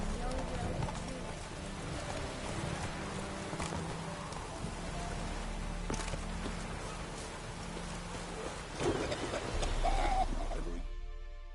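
Roach the horse in The Witcher 3 runs with a steady clip-clop of hooves through rain-like ambient noise, continuous over a constant background with talk in the game.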